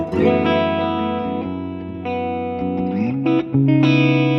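A Patrick James Eggle Macon electric guitar through distortion with the tone knob rolled halfway, sustained driven chords and sliding notes ringing clearly and loudly, alone without talk.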